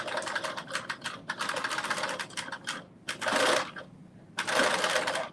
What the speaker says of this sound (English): I'm just taking my time and sewing in that little groove